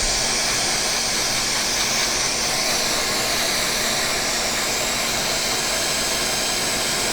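Hot air rework station blowing steadily onto a PlayStation 5 board chip coated in flux, a loud constant whooshing hiss that holds unbroken throughout.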